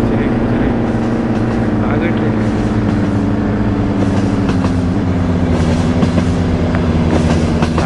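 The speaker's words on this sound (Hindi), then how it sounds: "ट्रेन के साथ चलते हैं, ट्रेन से तो आगे निकल जाएंगे इतनी गारंटी है मेरे को।" A train runs alongside on the railway with a loud, continuous rumble and rhythmic clatter, mixed with the steady drone of a vehicle travelling next to it.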